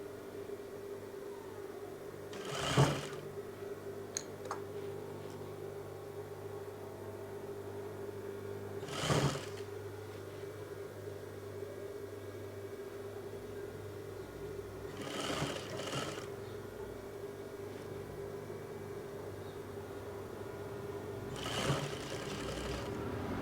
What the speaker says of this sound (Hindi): इस तरह से हम बराबर से पूरा स्लीव सिल लेंगे और इस पर इंटरलॉक कर लेंगे